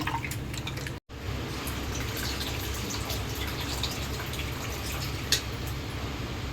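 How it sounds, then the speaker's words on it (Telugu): Water and tamarind being squeezed by hand to draw out juice for a fish pulusu, heard as steady close wet dripping, trickling and splashing for several seconds, briefly cut off near the start. "నేను డైరెక్ట్గా ఇలానే చింతపండు రసం అయితే తీస్తున్నాను"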